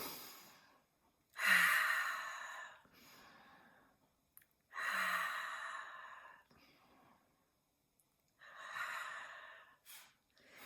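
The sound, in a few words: deep breaths during guided meditation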